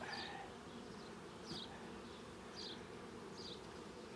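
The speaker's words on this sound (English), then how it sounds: "It's got a lot of bees on it" Honeybees from a package hive crawl over a hive frame, making a soft, continuous buzzing drone with a few brief, louder whirring passes as individual bees fly close by.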